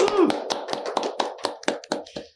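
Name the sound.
applause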